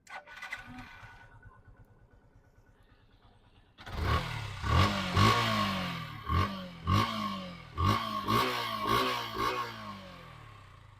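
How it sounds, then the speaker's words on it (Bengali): A 2022 Yamaha Fazer V2 FI motorcycle idles with a soft, even putter, then its engine catches loudly and revs in a series of sharp, rising bursts that fall back between throttle blips, close up. "মোটরসাইকেলের সাউন্ড কি"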